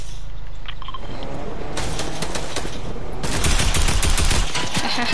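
Gunfire in a video game: dense, loud bursts of rapid shots crackle repeatedly over a constant background rumble, growing heavier toward the end.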